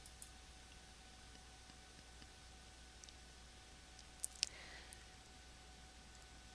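A pair of faint, sharp mouse clicks on a button, coming close together near the end, isolated against a quiet steady background hum.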